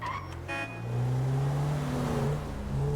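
A car driven slowly in GTA V, its engine humming and rising in pitch as it accelerates, loud and close, steady droning throughout after a brief clatter at the start.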